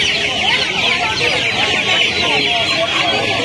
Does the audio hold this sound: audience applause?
no